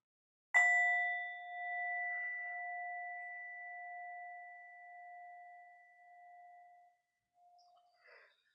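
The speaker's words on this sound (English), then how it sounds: "I'm going to invite the bell to help us start." A meditation bell struck once to open a meditation session, ringing out clear and alone, its pure tone sustaining and slowly fading over several seconds, followed by a faint soft rustle.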